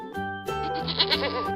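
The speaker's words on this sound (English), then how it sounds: "goat" A goat gives a loud, close, wavering bleat that swells and trembles over about a second and a half, set against a soft tonal background.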